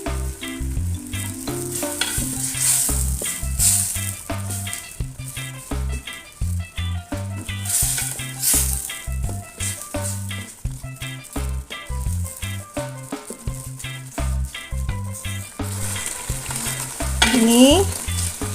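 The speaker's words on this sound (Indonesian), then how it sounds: "Ini kita tumis sampai wangi ya Bunda." A pan of ground chili paste fries in hot oil with a constant crackling sizzle while a spatula scrapes and knocks rhythmically, stirring over and over.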